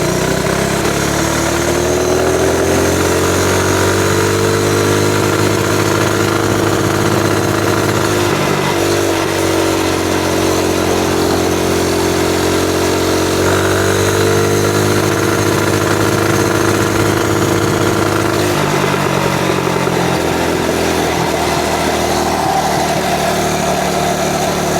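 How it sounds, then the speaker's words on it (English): A Ghost 212 engine swapped onto a mini bike with a max torque clutch idles loudly and close up, a steady rumbling putter with slight rises and dips in pitch throughout. "I thought she was going to need to be idled down so she could idle"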